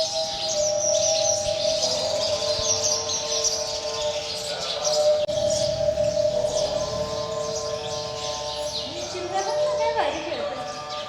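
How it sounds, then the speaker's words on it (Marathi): Sparrows chirp busily around a temple on the way to Jejuri, a lively chorus of close, repeated tweets and calls layered over one another, with people talking nearby. "इकडे चिमण्या ते त्या चिमण्यांचा आवाज येतोय."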